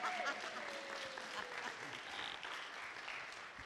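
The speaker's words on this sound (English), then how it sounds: "Round of applause for Maria." Gathered listeners at a church service clap together for a few seconds, a soft, distant patter of applause with a faint tone running underneath, recorded at low level.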